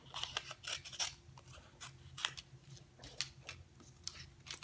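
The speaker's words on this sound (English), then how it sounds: "I'm going to cut some of the cardstock off around the image" Scissors snip through cardstock around a printed paper image for a layered paper-piecing craft, a close, quiet run of crisp irregular cuts over about five seconds with no talking.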